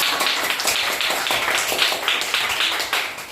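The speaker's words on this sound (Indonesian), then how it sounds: "Tepuk tangan dulu untuk Fatima." Children in a primary school classroom clap together for a classmate, a dense, steady patter of many small hands filling the room at close range, with no talk over it.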